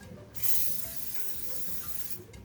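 A continuous hiss of cooking spray onto a pumpkin-shaped cake pan, fairly close and steady for about two seconds, then cutting off abruptly.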